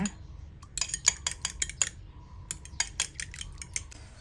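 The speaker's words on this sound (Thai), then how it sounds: "ตีไข่เหมือนทำไข่เจียวเลยนะคะ" A fork whisks two eggs in a bowl for Thai thick egg soup, giving quick rhythmic clinks against the bowl in bursts separated by short pauses, close and fairly crisp.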